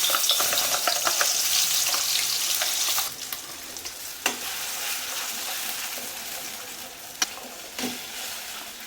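Ground paste sautéing in oil in a pan for a sorrel leaf dish, with a dense close sizzle that eases after a few seconds, marked by a few sharp spoon knocks and stirring scrapes.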